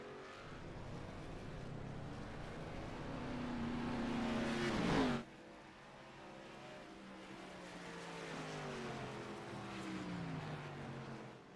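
ARCA race cars practise at Laguna Seca, their engines roaring as they pass at a distance. The drone swells and then drops sharply, followed by another car climbing through the gears, all steady and mid-distance.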